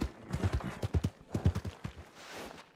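A horse's hooves clip-clopping nearby at a walking pace, with irregular clusters of hollow knocks in a steady rhythm that fade toward the end, with no talking.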